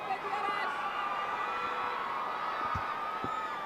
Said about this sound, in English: You can hear the cheers from them.